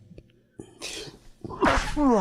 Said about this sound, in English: There's a sneeze.